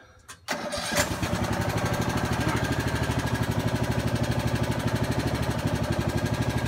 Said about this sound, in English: So let's crank this machine and watch this lift.